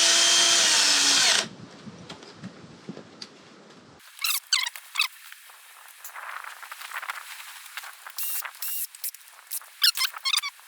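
A power drill run on a BMW R1200GS motorcycle engine gives a loud, whirring burst of about a second and a half up close, then gives way to quiet clicks and scattered tool-handling noises.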